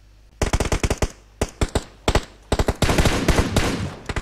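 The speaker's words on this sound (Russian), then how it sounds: "Нет, с той стороны стреляют." Rapid bursts of automatic gunfire in an online shooter video game, loud and close, firing in short volleys before a sustained stream of shots near the end.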